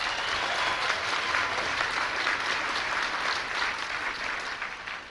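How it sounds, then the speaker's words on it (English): Sustained audience applause fills a banquet hall at the 2010 White House Correspondents' Dinner, a steady dense wash of many hands clapping that holds evenly and begins to taper near the end, with no voice over it. "was that Roger Ailes applauding out there?"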